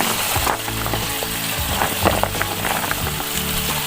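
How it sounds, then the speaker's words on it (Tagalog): Carrots, beans and other vegetables sautéing for pansit bihon in a hot pan, a steady loud sizzle with stirring scrapes throughout. "Tapos, susunod na natin dito yung gulay guys. Igitahin natin."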